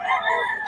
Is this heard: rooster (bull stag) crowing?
yes